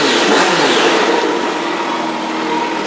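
A 2008 Kawasaki Concours ZG1400 sport touring motorcycle with a 1400cc fuel-injected, liquid-cooled, shaft-driven engine runs at a steady idle close by, loud and continuous with a throaty rumble and no talk over it.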